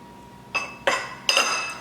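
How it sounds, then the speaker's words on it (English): A whisk stirs cornstarch into a sauce for a sweet potato side dish, with three sharp metallic clinks against the pan ringing out close and clear over a quiet background. "So what I'm doing now is just whisking it really good"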